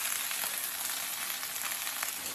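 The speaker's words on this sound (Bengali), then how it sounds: "এবার ঝিঙেটাকে এভাবে 2 মিনিটের মতন ভেজে নেব।" Ridge gourd fries in a hot pan with ginger paste, a dense continuous sizzle at steady loudness throughout, close and without talk.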